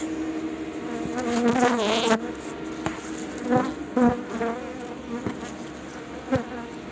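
Honey bees buzz steadily close by at a hive, several droning wings rising and falling in pitch as individual insects pass near, with a few soft knocks in the background.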